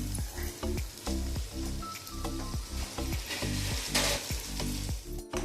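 Potatoes cook under a lid in a pan, giving a steady sizzle and crackle of frying with repeated low clattering or rattling sounds, close and continuous, with no voices.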